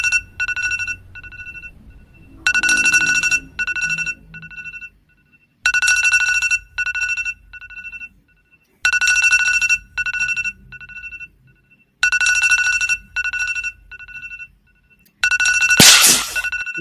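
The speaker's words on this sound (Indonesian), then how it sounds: "semua sudah familiar dengan suara ini dan suara ini adalah suara alarm" An alarm clock rings in repeated electronic beeping bursts, each a quick cluster of bright tones separated by short silences, loud and close, ending in a brief harsh clattering noise.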